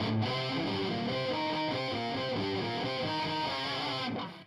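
Electric guitar with an octave effect, a steady run of doubled, thick notes in a repeating riff, loud and close throughout before cutting off at the end.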